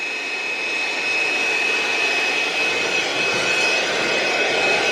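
A small blower, the little one rather than the big one, runs steadily up close, a continuous loud whooshing drone blowing sawdust off a person, with no talking.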